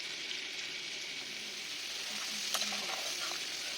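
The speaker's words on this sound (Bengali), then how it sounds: "এখানে আমি মশলাটা একটু ভালো করে কষিয়ে নিচ্ছি" Spices for chilli chicken frying in a pan, a steady close sizzle with occasional scraping stir sounds as the masala is cooked down, continuous and moderately loud.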